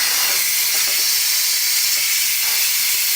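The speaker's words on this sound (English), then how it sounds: "we're going to flip the valve to vent" Instant Pot pressure cooker venting steam through its flipped valve during a quick release: a loud, continuous, even hiss that holds steady throughout, close by with no talking.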